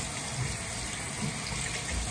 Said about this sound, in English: I'm gonna wash my hands because I just went to the bathroom